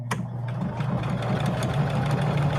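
A Juki HZL-353ZR-C sewing machine runs steadily through an arrowhead stitch, a close, continuous mechanical whir with rapid needle ticking and a low motor hum, no talk.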